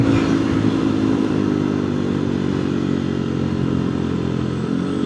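Motorcycle on a busy road overtaking long heavy trucks, steady loud engine drone with rumbling traffic and clatter throughout, no talking.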